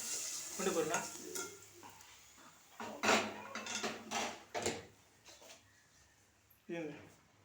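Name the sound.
frying gongura (sorrel) leaves in a pan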